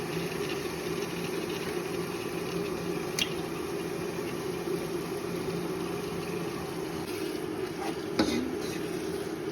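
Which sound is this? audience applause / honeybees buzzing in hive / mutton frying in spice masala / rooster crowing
mutton frying in spice masala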